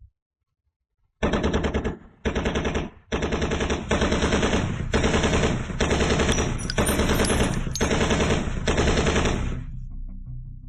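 Loud machine gun fire from a battalion opening fire on a target in a gangster action drama: after a second of silence come a few short bursts, then a long continuous rattling volley that fades into a lingering echo.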